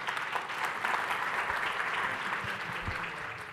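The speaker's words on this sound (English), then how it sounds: "give her a round of applause" An audience applauds at a lunch keynote event as a healthcare CEO is welcomed to the stage. The clapping is moderate and steady, slightly distant and even throughout, with no talk over it.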